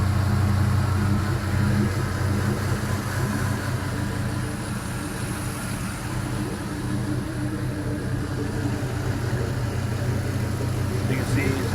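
A 5.3-liter LS V8 idles steadily on an engine test stand, a continuous low rumble held at an even level for the whole stretch with no talk over it.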